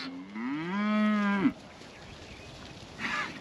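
Heifers on a farm, cattle being readied for breeding, give a loud, close moo lasting about a second and a half, followed by a fainter, shorter low call near the end.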